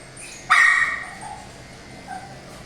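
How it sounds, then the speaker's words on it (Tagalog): A single loud, sharp dog bark rings out close by, followed by fainter yelps and quiet background. "Gustong isang aso nagwawala, oh."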